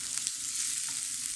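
Sliced onions fry in a pan of reduced oil left from frying potatoes, giving a steady, close hiss of sizzling with a couple of faint ticks, brief and without voices.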